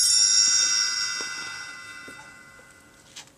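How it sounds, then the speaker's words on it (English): A bright chime rings once at the start, its shimmering high tone slowly decaying over a few seconds, alone with no talk, as the page-turn cue in a read-along Cars 3 storybook. "You will know it's time to turn the page when you hear this sound."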